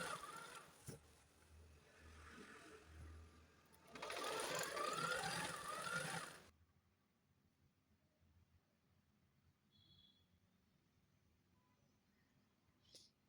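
A sewing machine stitches a fall onto a saree in two close bursts, a softer run of stitching followed by a louder, steadier whirring stretch, then stops, leaving only faint room noise and a small click near the end.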